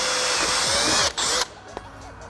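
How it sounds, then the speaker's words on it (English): A power drill whirs at high speed drilling pilot holes for a Toyota MK5 Supra front splitter endplate, pauses briefly, spins again, then stops, leaving quieter background noise. "this is going to allow me to drill these two holes"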